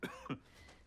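Two quick coughs, fairly faint, from a character in a Severance episode being watched, followed by quiet room tone.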